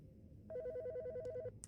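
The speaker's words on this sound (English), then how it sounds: "Oh, someone's ringing." An electronic phone in Autopsy Simulator rings once, a rapid warbling trill of alternating tones lasting about a second, clear and fairly close over a quiet background with faint room noise.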